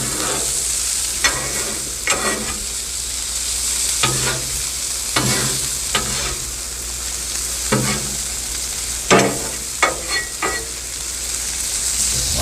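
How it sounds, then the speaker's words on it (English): Vegetables sizzle on a Blackstone griddle while a spatula scrapes and turns them, giving repeated sharp metallic strokes over a constant hot frying hiss. "Keep turning our vegetables, get them nice and hot."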